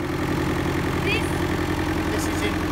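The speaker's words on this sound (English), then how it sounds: "so excuse the noise because the tractor is working." A tractor pulling a subsoiler through farm soil gives a steady, loud engine drone with a low rumble that holds evenly throughout, and faint background sounds on top.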